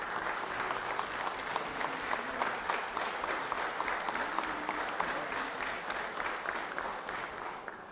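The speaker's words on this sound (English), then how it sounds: "let's give them a round of applause here" A legislative chamber breaks into steady applause for medical staff during a state session, many hands clapping together at a moderate distance, sustained and even for several seconds with no talking over it.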